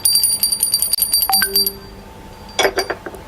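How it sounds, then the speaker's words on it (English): Hand bell rung during a Hindu devotional offering ritual, with bright, sustained metallic ringing for about the first 1.7 seconds, then a softer clinking burst near the end. "again I am going to ring my bell"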